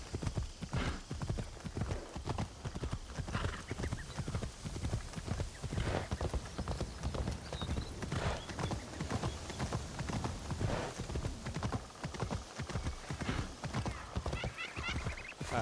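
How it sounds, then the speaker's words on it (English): Horse hooves clop steadily up stone steps in the video game Assassin's Creed Shadows, a continuous close rhythmic clatter with occasional snorts, no talking over it. "Not sure if they're going to appreciate my horse on these steps"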